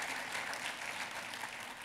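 Congregation applause at a church family sermon, a steady wash of clapping heard at low level, even and sustained before fading slightly at the end.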